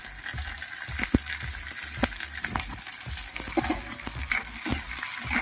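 Green chilli, capsicum and green peas fry in a pan with a soft sizzle while a spoon stirs them. The stirring brings repeated close scrapes and clinks against the pan.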